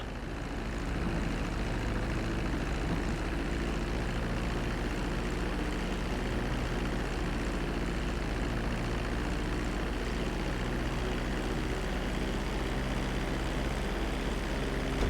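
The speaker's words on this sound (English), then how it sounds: "Start to decelerate while you're still in the air, but be careful not to stall the engines." An airplane engine in the video game GTA 5 drones steadily and broadly as the plane comes in to land on a runway, with no break in the sound.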